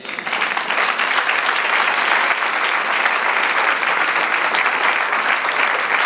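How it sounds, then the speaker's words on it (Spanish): A church congregation applauds during a Spanish-language sermon, dense and even clapping from many people filling the room, sustained and loud for several seconds without letting up. "Dale un aplauso así."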